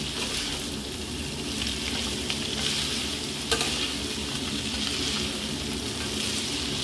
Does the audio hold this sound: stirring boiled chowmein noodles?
yes